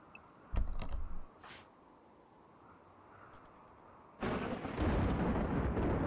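A deep rumbling thunderclap from a dry thunderstorm in the game RimWorld, a sharp crack followed by a long low roll that swells loudly again near the end, with a few clicking interface sounds in between.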